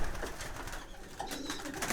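Pigeons in a loft during cleaning, soft close cooing calls repeating over a broad rustling background.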